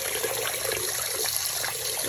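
An Ikonart stencil rinsed under running water, a steady close trickle and splash with small fluctuations throughout and no voices.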